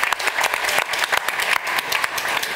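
Studio audience at the Dutch national science quiz, De Nationale Wetenschapsquiz 2019, applauding in a loud, steady burst of many hands clapping, dense and close throughout with no talk over it.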